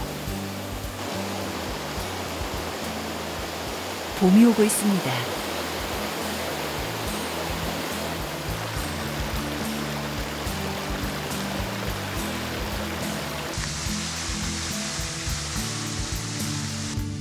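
Yongchu waterfall, running hard with spring snowmelt, roars in a constant, loud broadband rush that a narrator speaks over briefly, with soft music in the background.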